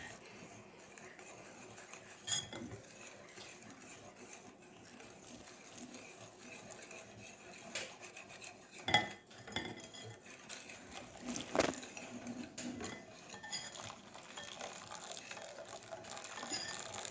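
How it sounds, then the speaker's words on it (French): Hot milk being stirred into a mix of egg yolks, sugar and starch in a bowl for a lemon pastry cream, giving soft, irregular scraping and clinking of a utensil against the bowl, fairly quiet, with a few sharper knocks. "maintenant, on mélange le lait chaud aux œufs, sucre, fécule"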